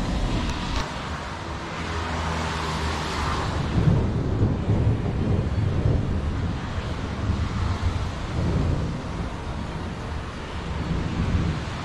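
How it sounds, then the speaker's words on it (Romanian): Stormy outdoor weather after the rain has stopped, with gusting wind roaring across the microphone and low rumbles of thunder, a loud continuous broadband wash with no voices. "Dar furtuna încă nu."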